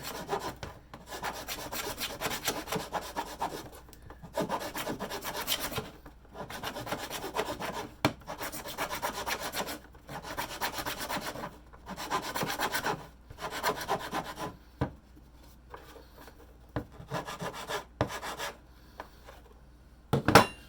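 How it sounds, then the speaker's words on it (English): A file rasps back and forth over the edges of a gasket for a brass element base, flattening it in long rhythmic strokes broken by short pauses, close and steady. "file off the edges of it so that it ends up being flat, because I don't want any leak"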